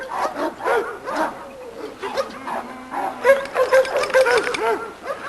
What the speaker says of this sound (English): This is a little dog called Hit and Run.